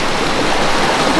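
River water flowing steadily near an old royal bathing site, a loud, dense, continuous rush of stream noise without breaks or voices.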